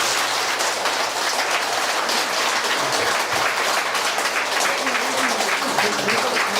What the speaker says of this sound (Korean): 우리 은사님에게 감사하다는 힘찬 박수 부탁드립니다